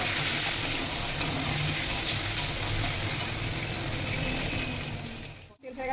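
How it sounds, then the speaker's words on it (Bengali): Dried chillies, black cumin and chopped tomato sizzle in hot fish oil, a dense, steady frying hiss throughout that briefly dips near the end. "এরপর এই মাছের তেলের মধ্যে দুটো শুকনো লঙ্কা দেবো, কালো জিরে আর দেবো কেটে রাখা টমেটো।"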